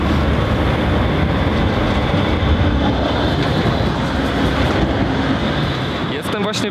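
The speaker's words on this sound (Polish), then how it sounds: "sprawdzimy działanie nowej trasy tramwajowej do osiedla Fordon" A tram rumbles along the new fast tram route to Fordon in Bydgoszcz, near the Bydgoszcz Wschód station viaduct, a loud continuous roar of running gear that fades slightly at the end.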